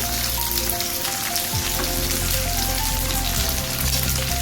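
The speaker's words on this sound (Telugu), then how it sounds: "ఇక నూనె వేడెక్కిన తర్వాత ఈ బెండకాయ ముక్కలు వేస్తున్నాను" Cut okra pieces sizzle loudly in hot oil in a pan, a steady dense crackle with no voices, while a low background hum runs underneath.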